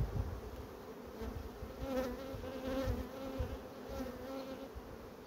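Honey bees buzzing in and around an open hive, a dense, continuous close hum with fluctuating pitch and drone, no talking.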